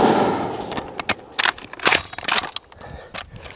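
An MG3 belt-fed light machine gun fires several short bursts and single reports, loud and close, with irregular gaps between them and no talking.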